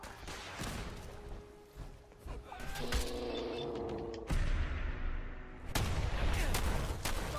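Combat rifle gunfire in the video game Fallout 4, bursts of shots with metallic clanks and mechanical clatter over a dense, noisy game soundscape, with no speech.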